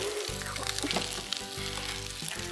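Cabbage dropped into qeema frying in a pan, giving a steady loud sizzle throughout with a continuous low hum underneath.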